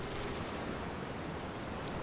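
Steady wash of ocean surf and water in the Outer Wilds video game, a dense continuous rushing roar with a breezy, wind-like hiss and no distinct breaks.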